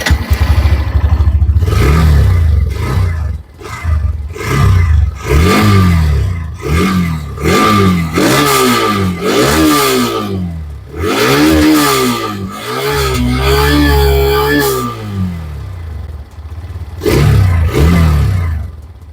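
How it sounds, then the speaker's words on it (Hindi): A Hero Xtreme 125R motorcycle's exhaust note, heard close and loud as the engine climbs from idle through a series of quick, rising and falling throttle revs before settling back to a steady idle. "और बाइक का साउंड जो है यानी एग्जॉस्ट नोट जो है वो इस तरह से है।"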